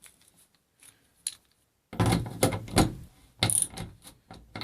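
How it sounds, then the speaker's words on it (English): A socket wrench tightening a faucet valve stem in a house or RV shower diverter, a few faint clicks at first and then a close burst of quick metallic ratcheting strokes with short pauses. "Take our socket wrench."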